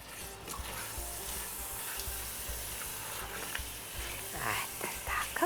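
Romani turlija stew frying in oil as it is stirred, a soft, low-level sizzle with light scraping and clinking of the spoon near the end.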